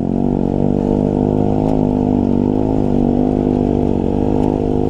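A motorcycle engine drones loudly and steadily at close range as it rides along, its pitch rising and falling slightly with the throttle.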